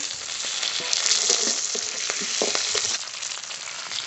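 Chopped greens going into a pan where a hilsa fish curry is frying with garlic and green chillies, giving a loud, close, continuous sizzle with stirring clatter and scrapes.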